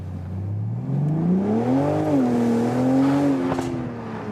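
A BMW Z4 M40i roadster launches hard under launch control, its engine note climbing steadily through the revs as it accelerates, loud and close, with no talking.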